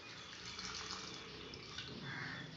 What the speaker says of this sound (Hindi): अब मैं इसको पानी से एक दफ़ा ये साफ करूँगी। पानी ऊपर से निकाल देना है।